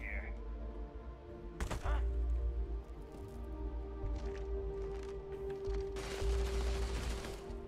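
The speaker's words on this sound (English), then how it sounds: "Well, they're shooting at Vasco." Gunfire aimed at Vasco, a robot companion, in Starfield, with bursts of rapid shots crackling in the mid-distance amid steady game ambience and a constant hum.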